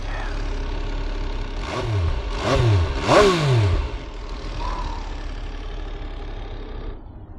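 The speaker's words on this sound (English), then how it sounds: "MV Agusta Brutale 800RR. Whew. All right. Sound check." A 2023 MV Agusta Brutale 800RR idles close by, then three quick, sharp throttle blips rise and fall before it settles back to a steady idle.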